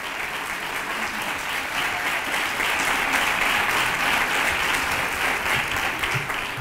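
Steady, dense applause from a crowd at the Three Kings coronation in Nerva, many hands clapping continuously at close range with no voices.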